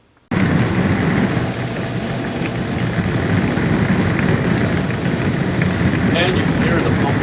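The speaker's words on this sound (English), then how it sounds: "you can hear the pump is running and spraying water, so the dishwasher is fixed" A repaired Whirlpool dishwasher runs with its pump going and water spraying inside, a steady loud broadband rush that holds constant from start to finish after a brief silent moment.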